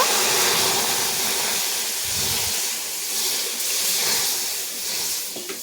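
Prawns simmering in a pot of water with salt and turmeric, giving a continuous steamy hiss with faint bubbling, close and steady.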